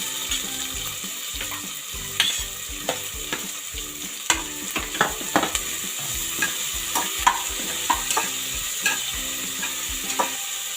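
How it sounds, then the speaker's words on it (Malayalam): Three large chopped onions sizzle in a cooker for biryani, a steady frying hiss broken by frequent clinks and scrapes of a stirring spoon against the pot, close and without talk. "അതിലേക്ക് നമ്മൾ അരിഞ്ഞു വെച്ചിട്ടുള്ള ഉള്ളി ഇട്ട് കൊടുക്കുക"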